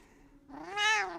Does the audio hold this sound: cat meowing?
yes